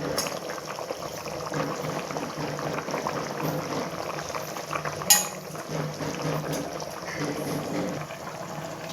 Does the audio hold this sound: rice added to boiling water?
yes